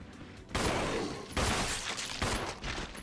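Gunfire in a Resident Evil video game, three loud close blasts spaced about a second apart, each trailing off into a short echo.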